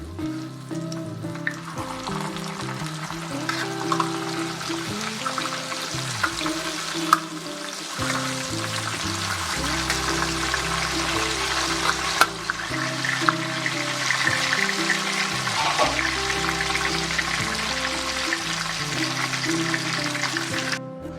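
Chicken pieces frying in a pot for a Savour Foods style pulao kabab, a steady close sizzle running throughout with scattered clinks and scrapes of stirring, and no talking.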